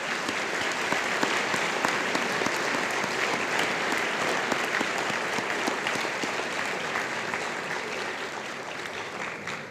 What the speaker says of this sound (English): let's give these students a round of applause